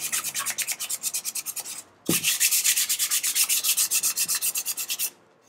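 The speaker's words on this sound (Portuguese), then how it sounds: "a gente pega a lixa, eu gosto da lixa 220. Então a gente vai passando aqui." A painted MDF box gets worked over with 220-grit sandpaper in steady, rhythmic back-and-forth strokes, close and fairly loud; a brief pause near the middle, then a faster run of even rubbing strokes before it stops.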